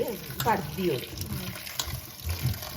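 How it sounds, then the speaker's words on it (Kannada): Water splashes and runs into a cooking pot at close range, a short gushing pour with a voice faintly underneath. "ಈಗ ಪುನಃ ನೀರು ಹಾಕಿಡ್ತಾರೆ"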